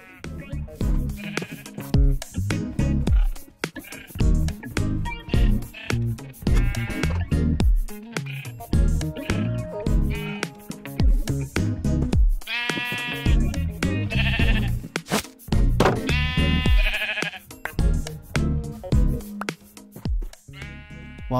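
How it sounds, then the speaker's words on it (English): Minecraft sheep bleat over and over in short, close, wavering cries, several calls overlapping in an irregular rhythm with small gaps between them, and no talking. "Use the leads to drag the sheep in the enclosure."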